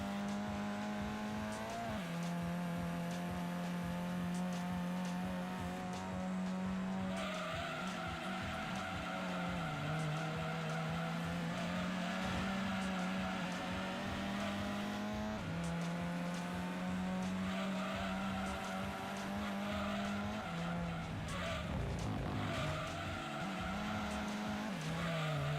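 Racing car in the Gran Turismo 2 video game, engine drone holding steady tones that shift with gear changes, with tire squeal and skidding through corners, continuous and loud for the whole stretch.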